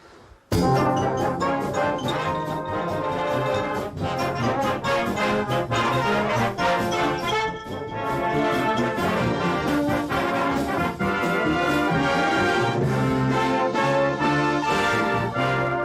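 A full brass band in Yorkshire plays loudly and continuously, rich sustained chords and moving melody lines filling the room with no talking.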